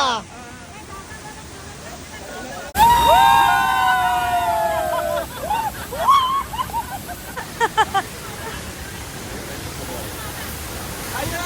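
A powerful, high-pressure waterfall roars in a steady wash of noise at a scenic spot with a skywalk, while excited visitors shout, scream and chatter close by over the rushing water.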